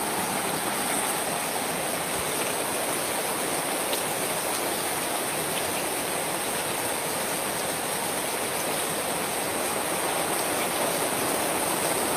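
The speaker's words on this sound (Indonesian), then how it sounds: "Kalian bisa dengar hujannya deras banget, teman-teman" Heavy rain pours down at night in an abandoned village, a steady, dense hiss of falling water that continues without a break, with no voices.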